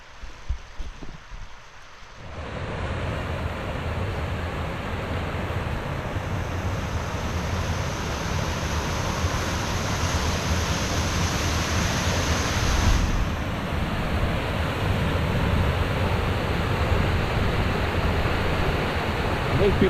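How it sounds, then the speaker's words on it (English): Rushing water from a waterfall in a woodland valley in Northumberland in February roars as a steady, broad, continuous hiss after a brief quieter opening, sounding close and unbroken. "Let's come around the corner to find this waterfall."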